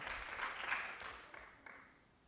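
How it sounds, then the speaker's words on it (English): Scattered clapping from a small audience at a local board meeting, a few quiet hand claps that thin out and fade within a couple of seconds. "I think everybody deserves a round of applause for coming."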